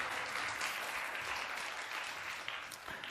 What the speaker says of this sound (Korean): 박수를 왜 치노?